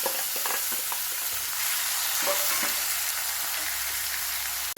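Marinated chicken added to softened tomato frying in a pan, a loud continuous sizzle with stirring clatter and scraping throughout, close by.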